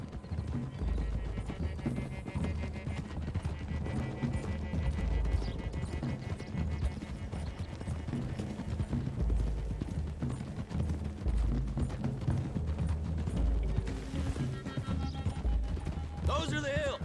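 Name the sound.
horses' hooves clip-clopping while riding, from video game Red Dead Redemption 2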